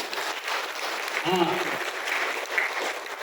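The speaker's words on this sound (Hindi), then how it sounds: "तो इस आरसीएम के पावर के लिए ताली बनती है कि नहीं?" An audience at an RCM business plan meeting claps in a steady, diffuse wash for the whole few seconds, fairly quiet and distant, with a voice briefly heard over it.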